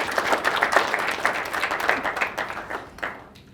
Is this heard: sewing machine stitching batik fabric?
no